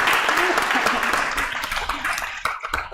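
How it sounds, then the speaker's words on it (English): An audience at a Sunday church service applauds the children, brisk clapping that starts full and gradually thins out toward the end, with voices audible beneath it. "Big applause to our children."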